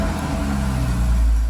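A Porsche engine idles steadily while warming up, a low continuous rumble heard up close with no talk over it.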